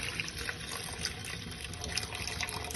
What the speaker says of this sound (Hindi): ये जो पानी, वही पानी हम इसमें डाल देंगे